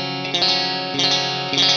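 An electric guitar played with heavy compression for a sparkly 1980s tone, with sustained, shimmering chords restruck about three times, loud and close with no talk.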